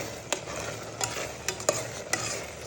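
Lentils boil in a pan on a stove over a medium flame: a steady hiss with a few sharp pops every half second or so, close by.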